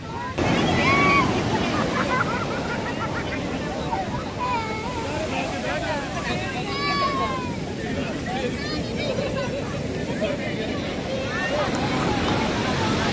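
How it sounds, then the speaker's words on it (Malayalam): Rough sea surf breaks steadily on a beach during a low-pressure spell, a loud continuous wash of waves with wind buffeting, while people's voices and chatter rise over it throughout. "നല്ല ന്യൂനമർദ്ദത്തിന്റെ സമയമായതുകൊണ്ടാണ് ഭയങ്കര തെരായം."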